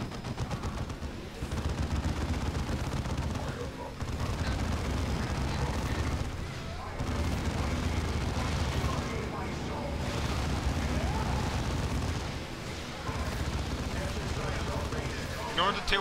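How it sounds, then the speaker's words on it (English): In Dawn of War II, a plasma cannon charges and fires amid dense, continuous battle noise of gunfire and explosions that stay loud for the whole stretch. "Avatar's going up 2 feet away with his plasma cannon charging up and shooting at it"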